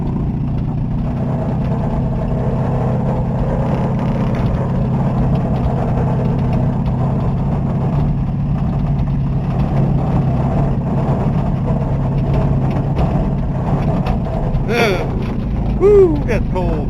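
A diesel vehicle with glow plugs creeps slowly along while watering a garden, its engine idling and chugging steadily and loudly throughout, with faint mechanical clanks and a short rising squeak near the end.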